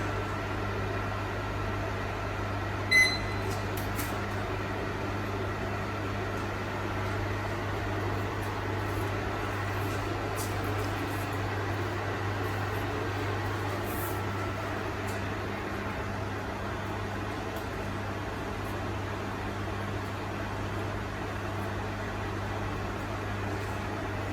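A microwave oven runs with a steady low electrical hum and whirring fan noise, constant and moderately quiet throughout, with a faint click near the start and no voices.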